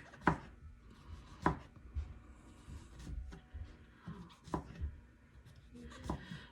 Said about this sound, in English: for the mushrooms, thinly slice like so